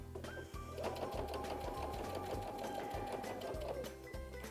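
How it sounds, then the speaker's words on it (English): A sewing machine stitches down quilt binding in a steady, quick mechanical whir with regular needle taps, continuous and fairly quiet, with no talking. "we are going to just sew down that side"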